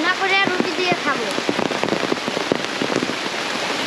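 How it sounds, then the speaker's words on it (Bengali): Steady rain pours and patters on surfaces around an outdoor village spot where Chinese duck is being cooked beside a veranda. Voices sound briefly at the start, and the downpour stays loud and continuous throughout. "চারপাশ বৃষ্টিময় হয়ে গেছে দেখেন।"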